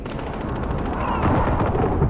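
Gunfire in the battle royale game Warzone, dense crackling shots and distant bursts layered together over two seconds at moderate loudness, with no voice over it.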